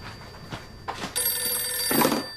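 A telephone rings loudly and close by indoors, with a sustained electronic bell tone after a few soft knocks.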